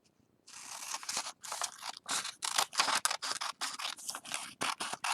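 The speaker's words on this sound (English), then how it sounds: "I just take my scissors and I'm going to cut along the paper's edge." Scissors snip along the edge of a sheet of origami paper, a close run of quick crisp cuts in a steady rhythm, with no talking.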